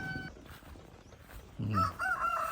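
Rhode Island Red rooster and Rhode Island White hens in the brooding area of a certified breeder farm in Mati City, clucking and calling faintly, then louder, close squawks toward the end.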